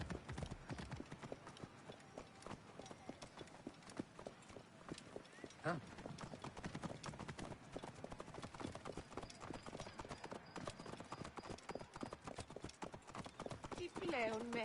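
Horse hooves clip-clop in Assassin's Creed Origins with a steady, close trotting rhythm and a brief whinny, while game characters talk over it.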